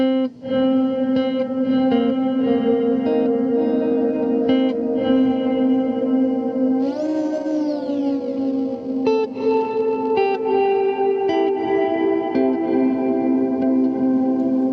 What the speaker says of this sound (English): you can get a little bit of a delay before the reverb comes in